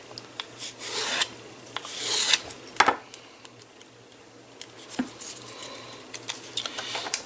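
Paper for a handmade mini album being rubbed to break down its fibers, heard as close, rasping scrubbing strokes in uneven bursts with short pauses between them, and no voices.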